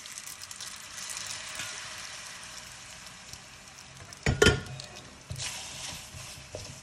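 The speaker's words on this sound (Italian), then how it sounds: "Ora mettiamo un po' d'acqua di cottura," Pasta cooking water poured into a hot pan for carbonara over low heat gives a sudden loud hiss and sizzle midway, settling into a gentle frying crackle, with no voices.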